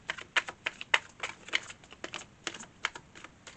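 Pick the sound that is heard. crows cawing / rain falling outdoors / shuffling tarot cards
shuffling tarot cards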